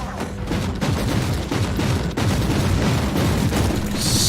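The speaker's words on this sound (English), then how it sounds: "So let's get rid of all the enemies which are firing at us here." Enemy gunfire in the video game Warhammer 40,000: Inquisitor - Martyr, a dense, continuous volley of rapid shots and booming impacts that stays loud and steady throughout, with no voice over it.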